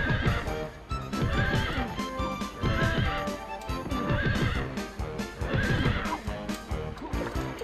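Galloping hooves and repeated neighing of a horse in Disney's Hercules video game, a loud continuous rhythmic clip-clop with whinnies over a busy game soundtrack throughout.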